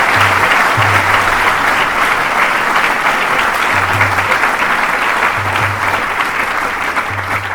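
An audience welcomes a fortunate honoree with loud, dense, steady applause that fills the whole stretch without letup, with a low humming tone sounding intermittently beneath it.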